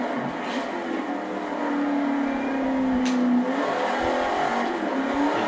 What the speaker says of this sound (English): We're in the 71 Plymouth Cuda 426 Hemi.